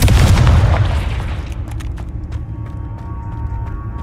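A Confringo blasting spell explodes in Hogwarts Legacy: a loud, deep boom at the start that rolls off into a long rumbling decay, with faint lighter crackles afterward.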